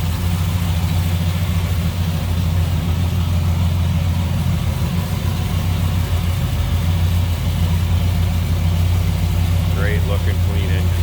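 Restored 1990 Chevrolet 454 SS pickup with a 454 big-block V8, headers and chrome valve covers, idling with a deep, steady low rumble that runs continuously under nearby talk.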